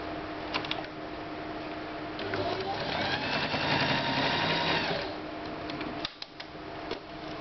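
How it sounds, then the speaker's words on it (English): A sewing machine stitches polar fleece on a dog coat in a steady, rapid mechanical whir that runs for a few seconds. Faint ticking and clicking come before and after, and a person speaks in the background. "you simply stitch down in that ditch there so that you won't see it."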